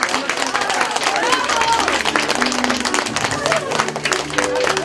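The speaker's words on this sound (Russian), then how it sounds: "Спасибо за ваши аплодисменты." An audience at a violin concert applauds, a dense, steady patter of many hands clapping at a moderate distance, with a voice talking over it.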